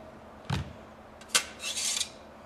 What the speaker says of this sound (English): Let's go ahead and slide the fire sticks out.